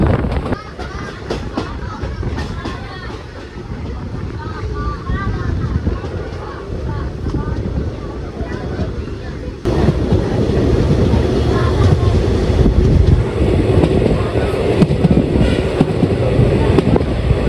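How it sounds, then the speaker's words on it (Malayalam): A BOBYN freight wagon train carrying metal rolls past, a steady loud rumble with rail clatter that swells and grows louder partway through, with some voices in the background. "ബോബിൻ മെറ്റലൊക്കെ കൊണ്ടുപോകുന്ന ടൈപ്പ് ഫ്രൈറ്റ്."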